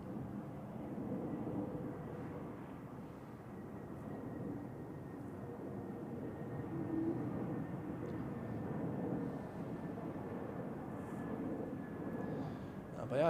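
An Airbus A321neo arriving from Geneva at Zurich Airport gives a faint, distant, even engine rumble that swells slightly toward the end, with people talking quietly over it.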